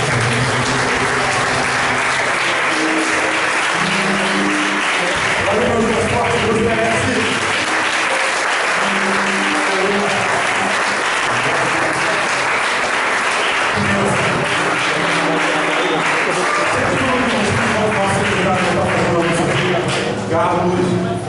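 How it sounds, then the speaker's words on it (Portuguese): A church congregation claps steadily and fairly loudly for about twenty seconds, with music or voices faintly mixed underneath. "Aplauda ao Senhor Jesus."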